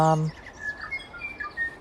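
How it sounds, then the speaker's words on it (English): Thin, high bird chirps in the open air, a scattering of small calls repeating over steady outdoor background noise at moderate distance. "you can hear the birds, can't you?"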